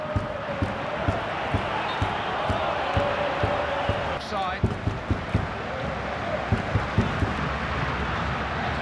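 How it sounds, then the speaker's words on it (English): Stadium crowd noise from a FIFA 14 World Cup match, Slovenia against England, with a broad steady roar through the whole stretch and a rhythm of light thuds and bumps under the din. "Crowd urging England forward."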